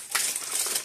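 A crimping tool squeezes a spade connector onto a stripped wire from a Gallagher fence charger, giving one short, close crunching squeeze.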